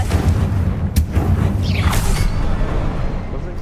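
A Confringo blasting spell goes off in Hogwarts Legacy, a deep booming blast with a whooshing burst, set against a steady rumble of game sound with no clear separate impact.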